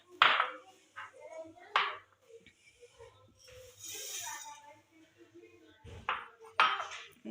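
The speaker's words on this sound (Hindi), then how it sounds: "अब हम इन सब दालों को कर लेंगे पहले मिक्स इस बाउल में" Dry lentils are stirred and tossed in a bowl, giving intermittent rattling, clinking bursts close by, with a voice speaking between them.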